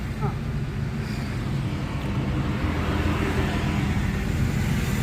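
A car moving along a highway during a driving lesson near Pune, with a steady, continuous low engine and road rumble throughout and no clear change in level.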